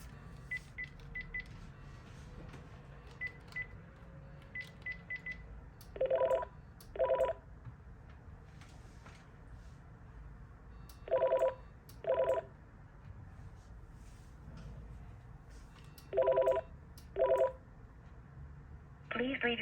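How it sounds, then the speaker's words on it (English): A mobile phone dials a call in keypad tones: scattered faint single beeps, then three pairs of louder two-tone DTMF bursts spaced several seconds apart over a low steady hum. "let's call this phone now."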